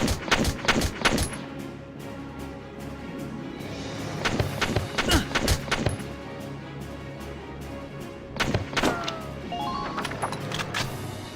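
Gunfire in the video game Valkyria Chronicles Remastered, with several loud bursts of shots in clusters separated by quieter stretches and game background sound.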